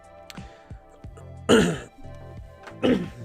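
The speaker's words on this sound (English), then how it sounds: "Sorry about coughing into the microphone there." A person coughs and clears their throat close to a microphone, two loud bursts about a second apart over a quiet background hum.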